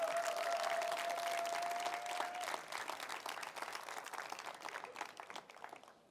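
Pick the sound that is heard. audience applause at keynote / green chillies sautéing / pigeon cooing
audience applause at keynote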